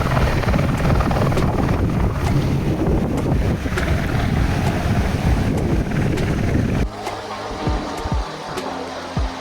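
A helicopter at the Amarnath helipad gives a loud, steady rotor roar with wind buffeting, then the noise drops abruptly near the end as it moves off.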